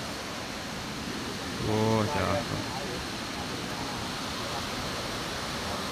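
Sindang Gile waterfall in Lombok gives a steady, even roar of falling water throughout, briefly joined by a single short spoken word near the middle.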